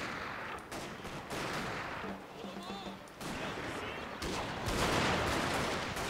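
Dense crackling musket and rifle volleys from units under fire in a Total War battle game, a continuous loud din of overlapping shots with faint voices mixed in.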